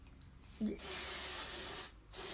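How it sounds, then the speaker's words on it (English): 505 temporary spray adhesive hisses from an aerosol can onto embroidery stabilizer in two steady bursts, the first long and the second starting after a short pause, close and loud. "you spray your stabilizer"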